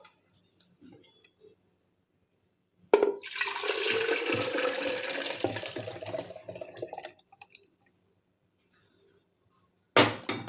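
Milk poured into a grinding jar, a steady splashing gush lasting a few seconds, close and clear, with faint clicks before it and a sharp knock at the end.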